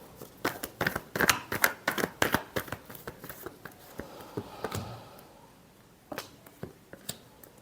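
Tarot cards being shuffled by hand in a rapid series of crisp, close snapping riffles, pausing briefly midway before a few more flicks, quiet and without talk.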